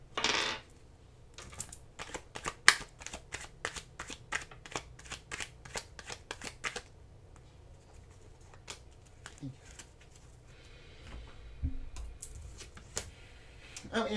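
Oracle cards being shuffled by hand on a tabletop: a quick run of crisp, evenly spaced riffling flicks for several seconds, then softer scattered rustles and taps.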